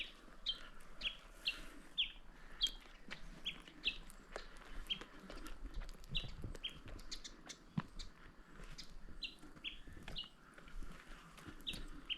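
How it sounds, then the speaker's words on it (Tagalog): Birds chirp in short, repeated high calls against a quiet outdoor mountain background near rock tunnels on a Spanish trail, with occasional clucking of chickens nearby. "ang naririnig mo lang dito ano eh yung huni ng mga ibon eh"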